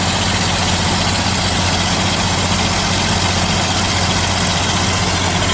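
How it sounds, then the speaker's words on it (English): A farm tractor engine idles close by in a loud, steady, unbroken drone with a deep throb, and no one speaks. "That's just our tractor."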